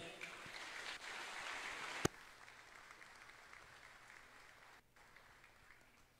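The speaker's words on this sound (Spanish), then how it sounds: "para quien pido un fuerte y caluroso aplauso" Applause at a formal municipal council session in Jalapa de Díaz, Oaxaca: a dense burst of crowd clapping that fades after a sharp knock, leaving a quiet room.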